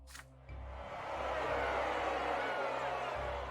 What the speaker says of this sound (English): You hear a grumble, whistles, the crowd is buzzing.